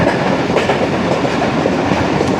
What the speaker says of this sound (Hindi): हमारी ट्रेन ने भी स्लो स्लो चलना शुरू कर दिया है